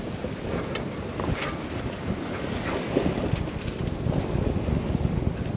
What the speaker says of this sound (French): encore une fois, une mer un peu agitée